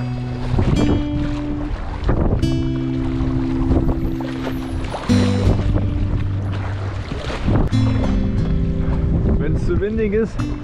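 Wind gusting across Lake Constance during a stormy stand-up paddleboard crossing, rumbling into the microphone as a constant loud roar, while people talk over it and water sloshes nearby.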